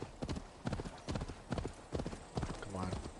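Hooves of a horse in Assassin's Creed Valhalla clip-clop in a steady walking rhythm, close and distinct, ending with a short snort or whinny, while a voice talks over them.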